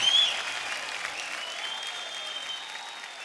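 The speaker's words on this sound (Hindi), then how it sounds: "एक बार जोरदार तालियां हो जाए शक्ति जी के लिए और पत्नी जी के लिए।" A television comedy show audience applauds steadily for a guest and his wife, a dense wash of clapping at moderate level that starts strongest and stays even throughout, with no talk over it.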